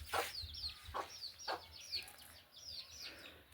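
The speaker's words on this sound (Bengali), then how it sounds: "এই যে ভিতরে কিন্তু মুরগি" Chickens in a small village coop give several short, faint clucks and squawks in quick succession, heard at a distance against quiet rural background.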